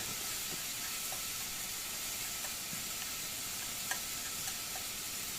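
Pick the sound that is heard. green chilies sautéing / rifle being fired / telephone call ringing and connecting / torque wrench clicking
green chilies sautéing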